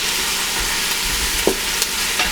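Onion frying in olive oil for Greek Easter cooking, a steady close sizzle with soft crackles and a couple of faint utensil clicks.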